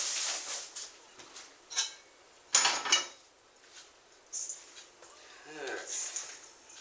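Cornbread being mixed and broken up fine in a bowl for cornbread dressing, heard as soft scraping, clinking and squishing in irregular bursts, close and fairly quiet, with a brief voice in between.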